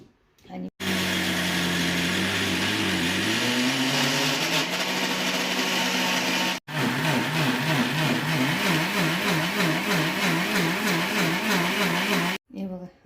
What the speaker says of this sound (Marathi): तर चला आता मी नाही हे दळून घेते एवढं